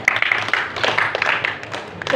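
Applause from a church congregation, a short burst of clapping from a crowd heard alongside a speaking voice.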